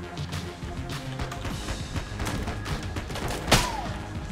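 Witch Pistol shots in the Enter the Gungeon video game: rapid bursts of small popping shots and impact cracks under game music, with one louder crack near the end.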